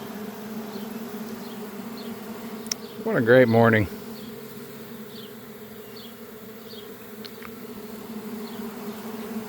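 A honeybee swarm being helped by a beekeeper outdoors makes a steady, low buzzing drone throughout, with one loud nearby bee passing close by for about a second; a person speaks briefly and softly.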